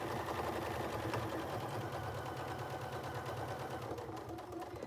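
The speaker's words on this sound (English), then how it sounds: "I'm also going to sew probably about 1/8 of an inch all the way around this now" A sewing machine runs steadily and continuously, stitching a narrow 1/8 inch seam around a piece of fabric, its rapid mechanical chatter close and even throughout.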